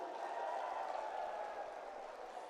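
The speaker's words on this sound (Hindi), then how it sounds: "एक बार मैं तालियां चाहूंगा आपकी तरफ से भी।" A dense, steady wash of crowd applause fills a large rally at Ramleela Maidan, held to protest Arvind Kejriwal's jailing, sustained at an even loudness for the whole stretch with no clear voices.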